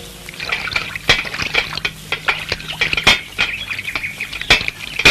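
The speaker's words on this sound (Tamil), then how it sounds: "அத பாருங்க, சுத்தமான கிணத்து தண்ணி." Clean water drawn from a well and poured, a steady splashing stream with irregular louder gushes and pulses running through the whole stretch, close and fairly loud with no voices.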